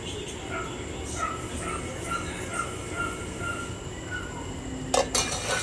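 A metal lid set onto a pot of mixed vegetables cooking on the stove, a single sharp clank near the end after steady background noise, with faint barking and distant voices.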